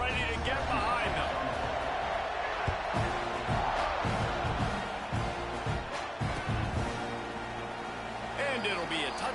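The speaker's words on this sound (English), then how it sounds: "this crowd now ready to get behind them" Crowd noise from an NCAA football video game swells continuously before a kickoff, a broad roaring cheer under a commentator's voice.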